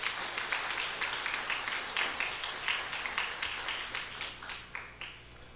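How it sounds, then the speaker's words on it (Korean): A church congregation claps in warm, dense applause after a musical performance, a steady patter of many hands with small swells that tapers off near the end. "우리 큰 박수 한번 해주시기를 바랍니다."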